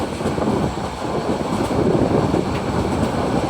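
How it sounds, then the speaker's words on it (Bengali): The Upakul Express, an intercity train bound for Noakhali, rushes past at speed during a crossing at Rajapur, a loud, steady rumble of rail cars with faint clattering wheels throughout. "দেখতে পাচ্ছেন দুরন্ত গতিতে ছুটে আসছে নোয়াখালী অভিমুখী আন্তনগর উপকূল এক্সপ্রেস"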